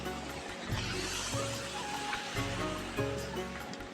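Continuous rushing water pouring steadily from a farm water pump outlet, with a faint rhythmic mechanical thump of the motor repeating underneath.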